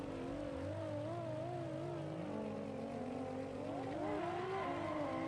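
Nissan S15 and BMW drift cars sit at the start line of a Top 32 drift battle at Wall Stadium, their engines revving and rising in pitch as they launch. Loud, continuous engine drone runs through the whole clip.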